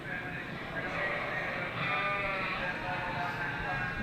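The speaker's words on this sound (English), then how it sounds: "this is Cordell pair or yearling Cordell ewes" Yearling Corriedale-type Cordell ewes bleating repeatedly at a youth breeding sheep show ring, the calls layered over steady crowd noise and talk.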